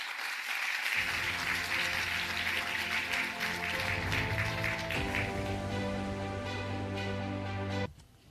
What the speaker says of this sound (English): So with a warm applause, please welcome Dr. Wang to stage